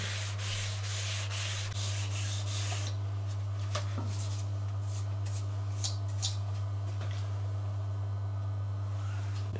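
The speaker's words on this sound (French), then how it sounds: "on ponce jusqu'à ce qu'on n'ait plus aucune aspérité sur le papier" Steady, continuous abrasive rubbing of sandpaper against book page edges, up close, with a constant low hum underneath and no talking.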